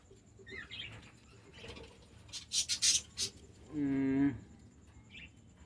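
Budgerigars in a breeding cage give a few short high chirps and a brief burst of quick notes, then a sustained warbling call, mixed with light rustling and scratching close by.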